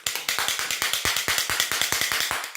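A handheld shaker noisemaker is shaken in a fast, even rhythm, producing crisp rattling bursts that repeat steadily for a couple of seconds, close and fairly loud with no talk.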